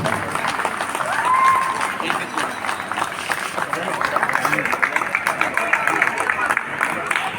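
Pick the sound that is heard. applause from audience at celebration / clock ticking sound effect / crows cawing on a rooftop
applause from audience at celebration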